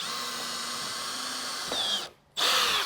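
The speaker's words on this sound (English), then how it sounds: "grab a drill bit, make a pilot hole" A power drill drilling a pilot hole whirs steadily at high pitch, briefly bogs down, stops for a moment, then spins up again loudly close by.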